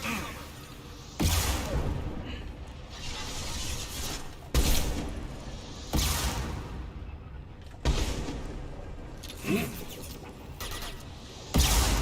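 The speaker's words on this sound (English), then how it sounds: "Ah, explosions!" Explosions and bursts of gunfire from the video game Mass Effect 2, with repeated heavy booms over a dense, continuous roar of combat.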